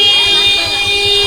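A bus horn on the road between Chennai and Kanyakumari blares as one loud, steady, sustained tone for the whole moment, with road and engine noise underneath and a voice talking over it.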